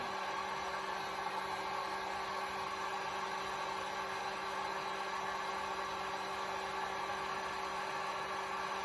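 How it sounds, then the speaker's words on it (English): A heat gun blows hot air onto a chip on a MacBook Pro logic board, its nozzle held close, making a constant steady whoosh with a faint tonal hum and no speech. "And as I'm applying heat to this, I keep the nozzle of this heat gun probably about a 1/4 inch from the actual chip."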